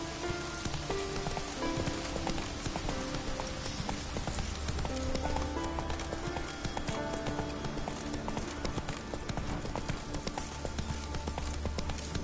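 Roach the horse's hooves clip-clopping at a steady trotting rhythm in The Witcher 3, layered over game rain patter and ambient music for a long continuous stretch.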